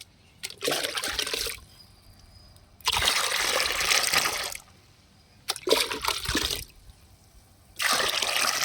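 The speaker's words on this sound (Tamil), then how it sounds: "இதில் ரெண்டு லிட்டர் தண்ணி சேர்த்துக்கலாம்" Two litres of water pour into a container in four separate bursts, each a steady splashing stream lasting one to two seconds, with quiet pauses between them.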